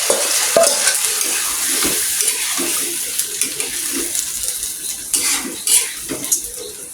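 Boiled chicken meat for biryani frying in a pan with onions and cumin, a loud steady sizzle with scraping and clinking of a spoon stirring throughout, close up, no talking.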